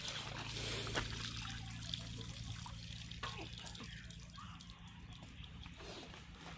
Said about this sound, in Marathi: आपण आता याच्यामध्ये थोडंसं थंड पाणी टाकून त्याला परत एकदा थोडं साफ करून घेऊया व्यवस्थित